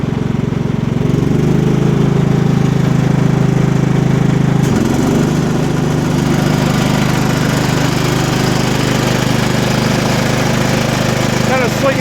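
A John Deere GT225 lawn tractor with a 42-inch snowblower attachment runs nearby with a loud, steady engine drone; a sharp clunk partway through shifts the churning sound as the blower engages and keeps going.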